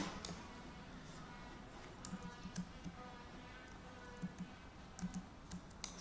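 Computer keyboard being typed on in bursts, soft faint clicks and taps at an irregular pace over a quiet room hum, with no talk.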